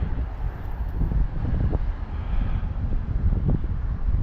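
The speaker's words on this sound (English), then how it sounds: "tonight is windy, chilly," Wind outdoors on a chilly, windy fall evening walk in Maine, a low gusting rumble buffeting the microphone, rising and falling in uneven surges with no voices over it.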